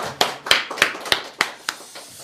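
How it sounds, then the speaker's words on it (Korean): Church congregation applause during a founding-anniversary Sunday service: a short run of about seven crisp, evenly spaced claps, close and moderately loud, sounding like a small group clapping roughly together. "우리 한번 영광의 박수 돌리도록 하겠습니다"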